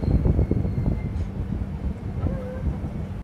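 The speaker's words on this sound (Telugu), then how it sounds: "30 గంటల లేట్గా మన ట్రైన్ సత్తెనపల్లి చేరుకుంది" Superfast express 12755 Kakinada Port–Bhavnagar pulls into Sattenapalli station, with a deep, loud rumble and clatter of wheels on rails up close, slowly easing off, and a faint whistle-like tone near the end.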